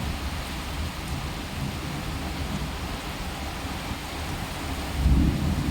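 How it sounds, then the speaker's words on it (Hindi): Heavy rain pours in a steady, dense roar with no voices, and a low thunder rumble swells near the end. "बहुत तेज़ी से बारिश हो रहा है गाइस, बहुत ज़्यादा तेज़ी से बारिश हो रहा है।"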